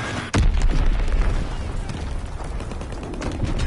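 A bomb explodes in a WW2 video game battle, a sudden loud boom followed by a rumbling, crackling blast wash that stays heavy as distant gunfire continues underneath.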